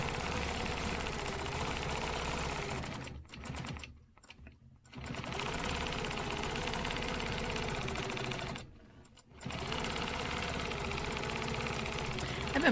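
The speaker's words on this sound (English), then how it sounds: "I'm just going to stitch these first lines here." A sewing machine runs steadily while stitching straight quilting lines, a close, even mechanical whir broken by two short pauses.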